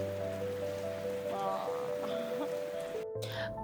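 Steady rain falls at a family campsite near a mountain view in Pancawati, Bogor, a soft continuous patter and hiss on surfaces, with faint tonal hum and muffled background activity underneath.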